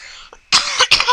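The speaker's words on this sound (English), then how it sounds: "sorry about the coughing" A person coughs in a few sharp, close bursts after a brief throat sound, loud and alone with no talking.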